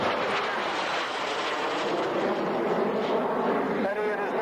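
Jet Provost Mark 3A jet aircraft getting airborne at the Duxford autumn airshow, a loud, steady broadband engine roar that fills the whole stretch with little change.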